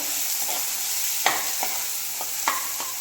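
Leftover rice being stir-fried in a tempering over a medium flame sizzles steadily in a hot pan while a spatula scrapes and turns it in a few separate strokes, close and clear.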